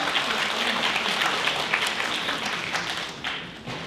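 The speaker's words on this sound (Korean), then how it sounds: "박수로 환영해 주시면 감사하겠습니다" A seated audience at a Soongsil University admissions briefing, held by the Incheon education office, applauds to welcome the speaker. The clapping is steady, dense and moderately loud, with no talk, and it fades slightly toward the end.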